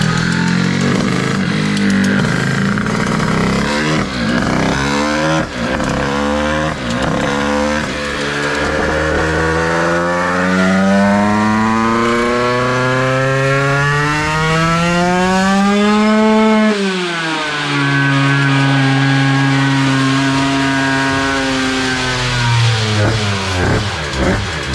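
A 96cc Bidalot moped engine on a dyno revving hard, its buzzing two-stroke pitch climbing steadily, peaking, dropping sharply, then rising again, very loud and close without talk.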